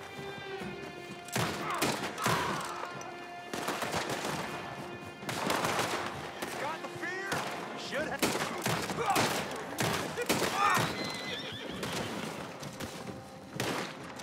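Repeated gunfire crackles through a Red Dead Redemption 2 Online gunfight, with irregular bursts of shots and impacts over several seconds amid busy game ambience.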